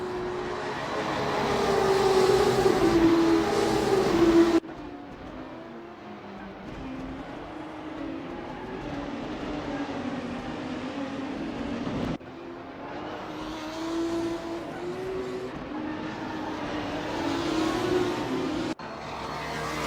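Race cars roaring in a video game racing broadcast, engines whining and shifting pitch as they pass and accelerate, loud and continuous across several abrupt scene cuts, with no commentary heard.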